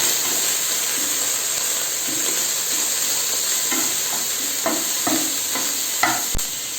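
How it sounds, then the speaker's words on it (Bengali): Onions and garlic being stirred together in a soup pot, a steady close sizzle with intermittent scraping strokes of the spoon toward the end; no talking. "এরপর আমি পেঁয়াজ আর রসুনগুলো এর সাথে মিশিয়ে নেব, নিয়ে একসাথে নাড়াচাড়া করে নেব।"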